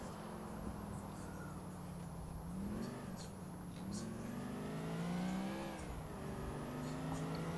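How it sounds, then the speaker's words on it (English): Police car driving in GTA IV: Episodes from Liberty City, its engine revving up and down in pitch over several seconds, loud and continuous, with brief tire noise and no talk. "I'm in a police car at the moment. Hey, it's hard to drive on this."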